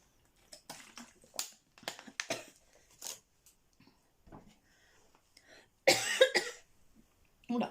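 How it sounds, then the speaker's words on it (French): A string of harsh coughs and throat-clearing from a woman with a persistent cough, separated by pauses, with one loud burst of coughing near the end; close and fairly quiet. "J'ai une toux depuis un petit temps là qui persiste un peu, et des fois j'ai des quintes"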